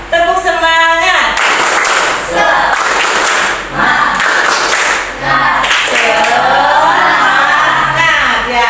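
A school science class performs the "tepuk semangat" spirit clap, with loud rhythmic group clapping mixed with children chanting and shouting nearby in a classroom.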